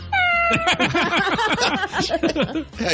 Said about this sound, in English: cat sounds too pleasant.